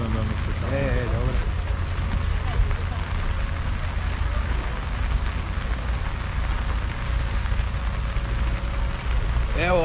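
Rain falls steadily at an outdoor fair in Benkovac, a constant hiss of drops on surfaces beneath a low rumble, while people nearby talk and a short musical tone sounds briefly.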